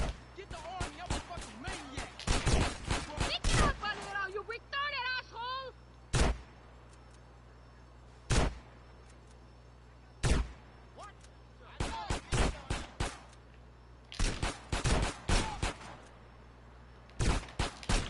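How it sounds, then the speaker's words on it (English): Shotgun blasts in the video game GTA San Andreas ring out in sharp, loud single shots and clustered volleys at irregular intervals, with talk and game voices heard in between. "Who the fuck is shooting me with a shotgun?"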